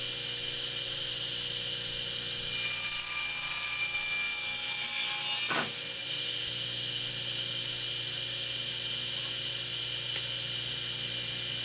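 Hand saw cutting a wooden trim board to length, a steady rasping stroke lasting about three seconds over a constant background hum, ending abruptly, with no talk.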